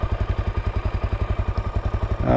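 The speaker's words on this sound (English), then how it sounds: "commuting to work on the DRZ, basically testing out the Rekluse clutch that I installed" Suzuki DRZ400 motorcycle fitted with a Rekluse clutch, ridden on a commute, its single-cylinder engine thumping in a quick, even pulse close up.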